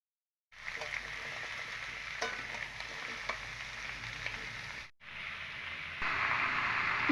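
Pumpkin pieces hiss and sizzle in a pan of fried potatoes and two green chillies for a vegetarian pumpkin chhokka, with a steady frying crackle, a brief dip, then louder sizzling as stirring continues.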